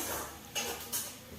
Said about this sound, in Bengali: ওখানে চলছে মাংসের মশলা কষা।